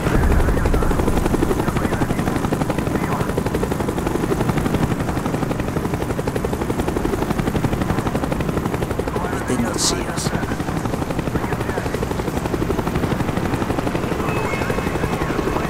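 A helicopter circling in Call of Duty: Black Ops makes a loud, steady rotor thrum with dense battle noise and a brief burst of gunfire, while voices speak under the din.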